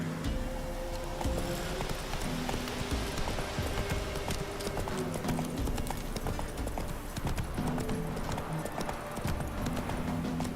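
Roach the horse gallops in The Witcher 3, hooves clip-clopping in a steady, driving rhythm that runs the whole way through, close and loud, with a brief whinny possible and no talking.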